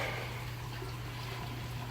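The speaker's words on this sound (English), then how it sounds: "We just got the water going in through some valves on the back side." Water running through valves into a greenhouse watering manifold, a steady faint hiss and trickle with a low constant hum beneath it and no voices.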